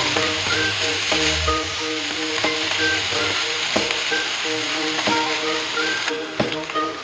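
Hilsa fish pieces fry in hot oil in a kadai with a loud, continuous sizzle. Repeated scraping stirs and faint clinks sound over it, and a sharp knock lands near the end.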